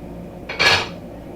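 One quick scrape of a stain-resistant spoon scooping meatballs and red sauce for homemade meatball subs, a brief close rub lasting under half a second, with no talk.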